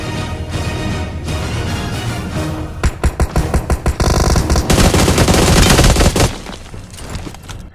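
Gunfire in a battle royale video game, loud and close, with a rapid rhythmic burst of shots in the middle after a steadier stretch of game noise.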